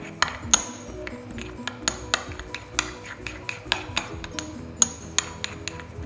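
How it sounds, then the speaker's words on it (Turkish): Tomato sample being crushed in a mortar with a pestle, giving a steady series of sharp knocking and grinding clinks, close and fairly loud, over a low background hum with no talking. "bunu öncelikle ben böyle havanda, havan elimi kullanarak eziyorum"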